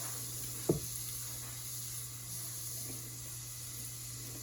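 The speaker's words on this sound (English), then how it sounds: "I have my onions, and you can hear them starting to make noise, which means my pan was hot" A faint, steady sizzle of onions frying in a hot pan, with a single light knock near the start.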